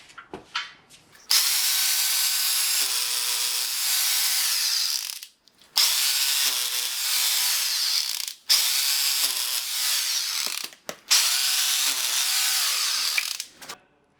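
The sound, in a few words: power drill drilling holes in wall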